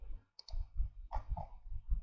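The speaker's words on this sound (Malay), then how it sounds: "Tekan button delete dekat keyboard." A single keypress on a computer keyboard's delete key, a short sharp click around the middle of the clip, with muffled background rumble around it.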